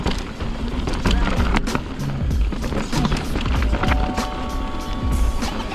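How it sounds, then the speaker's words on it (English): Mountain bike tires roll over a dirt trail and rocks, a close, continuous rumbling crunch with irregular bumps and rattles throughout. "that rubber starts hitting that dirt and going over rocks"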